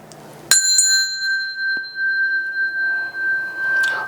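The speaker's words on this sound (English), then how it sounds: "I'll do the bell." A small bell struck once to open a tarot card reading, a sharp bright ring with a long clear sustained tone that fades slowly, close and loud with no talking.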